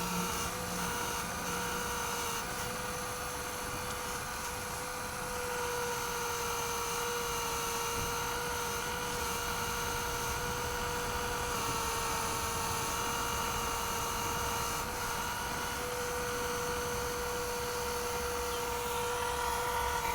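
Brushless motor of an RC4WD 4200XL hydraulic RC excavator running steadily, a continuous high-pitched electric whine with a hydraulic pump hum that stays constant and close throughout, with no talking.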